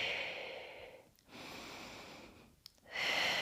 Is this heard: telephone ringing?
no